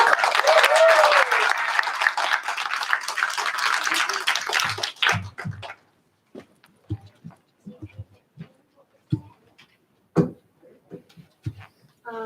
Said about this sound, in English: So give Sarah a round of applause here.